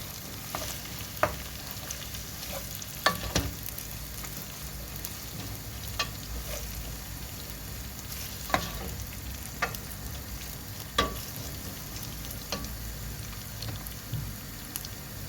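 Three chopped zucchini frying in a pan for an Antakya-style chickpea and zucchini stew, a soft continuous sizzle broken by scattered sharp clicks and scrapes of stirring, close but fairly quiet, no voices.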